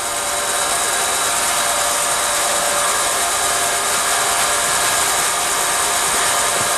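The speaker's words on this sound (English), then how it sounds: "The diffusion pump is fully working." Diffusion pump running on a vacuum system used to make a Fleming diode vacuum tube, a loud, steady broadband hiss and whir with a faint constant tonal whine, unbroken and close.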